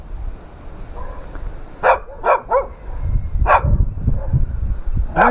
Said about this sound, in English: There's the noisy dogs.